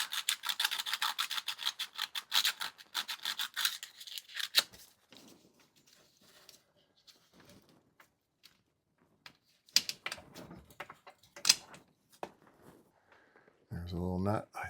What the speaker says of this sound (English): I sanded that off.